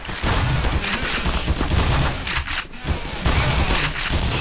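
Gunfire in the first-person shooter Black Mesa: a dense, loud stream of rapid shots and bursts rattling continuously throughout, with barely any pause.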